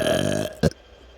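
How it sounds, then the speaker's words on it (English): A single short, close burp erupts after a stretch of sustained tonal humming, then fades into near silence. "I can feel the vibration from her burp."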